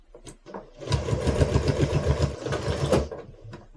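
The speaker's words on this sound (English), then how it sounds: "I can continue to sew." A sewing machine stitches binding onto a quilt in one close, steady motorized run of about two seconds, with soft handling noises just before and after.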